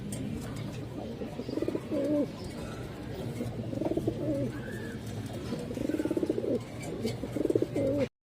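A male Kaldom pigeon coos up close, several bursts of low throbbing rolling coos coming in rhythmic groups over a steady background noise.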